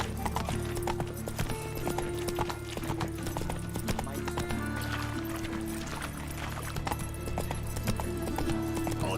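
A horse gallops in The Witcher 3, its hooves clip-clopping in a steady rapid rhythm over a dense game soundscape with a sustained tonal drone, continuous and fairly loud throughout.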